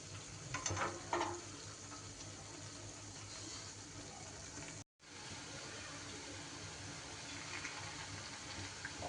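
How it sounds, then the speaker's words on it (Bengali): Potato and semolina fritters frying in oil over a flame, a steady close crackling sizzle with a few louder spatters near the start and a brief dropout midway. "এইভাবে আস্তে আস্তে সবগুলোকে উল্টে পাল্টে তেলের মধ্যে ভেজে নিতে হবে বড়াগুলোকে"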